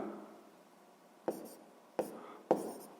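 Pen writing on paper while a math problem is worked out, three short sharp scratching strokes spaced about a second apart, close and quiet, over faint background hiss.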